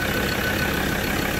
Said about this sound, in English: it has that beautiful diesel engine sound